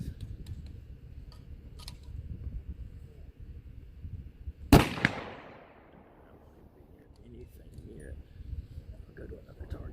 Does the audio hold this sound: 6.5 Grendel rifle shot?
yes